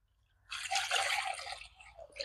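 Water poured out for chickens makes a steady, close splashing rush that starts abruptly after a brief quiet moment and continues to the end without any talk.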